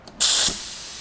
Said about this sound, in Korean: 여기다가 잔유 제거기 석션을 한번 해보겠습니다